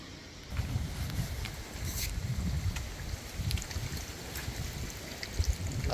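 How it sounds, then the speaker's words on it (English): Steady wind gusts blow outdoors during a hurricane in St. Elizabeth, a faint, constant rushing roar with soft swells and no voices. "Lots of wind blowing outside."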